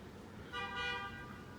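Car horn honks once from down the street at night, a short clear toot rising above quiet background hiss with no traffic noise.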